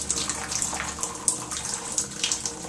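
Warm tap water pours steadily over acorns, a continuous splashing hiss with small gurgling bursts, close and moderately loud with no talking.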